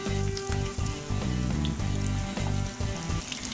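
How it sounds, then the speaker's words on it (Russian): Fish fries in vegetable oil in a frying pan, a dense, steady sizzle close by, broken by brief dips and clattering as the pieces are moved. "Обжариваю рыбку с обеих сторон до золотистого цвета"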